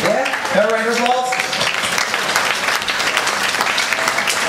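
Applause from a talent show audience in Salford, a dense, steady wash of many hands clapping at close range, with a voice speaking briefly over the start.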